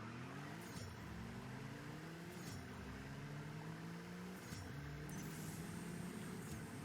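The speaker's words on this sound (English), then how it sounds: "so you can hear the sound of the cars" Racing cars in the mobile game CSR2 play at low volume: engines rise in steady revving sweeps, drop sharply at each gear shift and climb again, with faint clinks layered on top.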